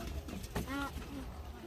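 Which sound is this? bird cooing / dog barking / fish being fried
bird cooing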